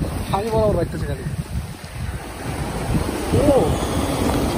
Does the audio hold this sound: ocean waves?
yes